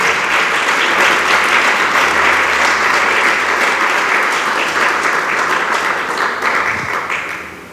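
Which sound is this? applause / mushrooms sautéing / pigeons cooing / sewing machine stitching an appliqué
applause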